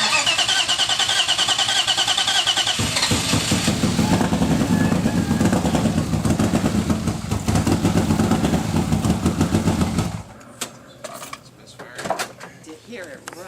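A fully forged BMW S52 engine cranking and catching for its first start, a loud sustained starter whir and rough engine roar that cuts off abruptly, followed by clunks and people talking nearby.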